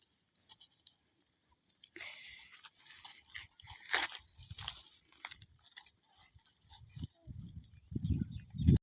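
Goats chewing palm fruit, with repeated crunchy bites and wet munching close by that grow louder toward the end.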